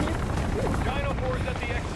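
Helicopter in the video game Call of Duty Warzone DMZ mode, a steady rotor and engine rumble running throughout at fairly close range, with voices talking over it.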